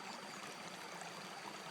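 River water flowing along a rocky bank in the video game Roadwarden, a soft, steady rushing wash that stays even throughout, with no voices.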